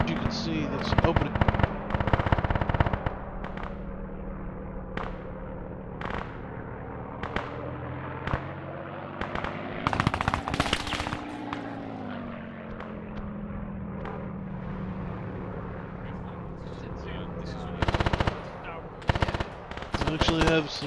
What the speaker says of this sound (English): We actually have some machine gunners wasting fire on the plane.